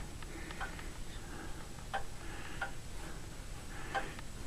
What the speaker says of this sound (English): there's my 60-beat master clock with the face reinstalled and hands in roughly the correct order